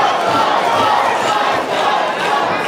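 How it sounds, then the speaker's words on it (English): A wrestling event crowd roars and chants to rally a wrestler during a match, a dense, loud wall of shouting voices sustained throughout. "Ken Sweetness, you heard the crowd trying to rally him there."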